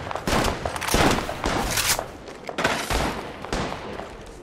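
Rapid bursts of gunfire in Apex Legends played on an iPad, loud and dense fusillades repeating across the whole stretch with brief gaps between volleys.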